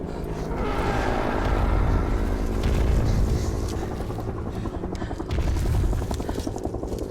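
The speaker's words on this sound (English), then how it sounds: "Who do you think's flying that helicopter?" A helicopter's steady rotor thrum and engine roar fills a scene in the film Godzilla vs. Kong, loud and continuous, with faint voices mixed under it.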